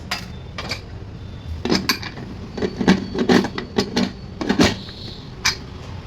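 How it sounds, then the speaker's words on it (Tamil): A lid is set onto a pot of basmati rice with a series of metallic clanks and clinks. The sounds come in short, close bursts, with no talking. "அப்படியே நம்ம மூடி வச்சுருவோம்"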